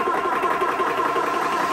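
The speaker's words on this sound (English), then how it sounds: "This is where it gets loud, and you're going to let the fan run for a couple of seconds" A Vevor PCP air rifle compressor runs loud and steady after being switched on, a dense mechanical drone with a rattling vibration that stays constant throughout.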